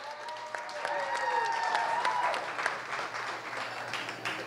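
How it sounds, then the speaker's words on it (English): Applause from wedding toast guests fills the room in a steady, dense wash of clapping with a few whistles and voices mixed in. "Can we give them a round of applause too?"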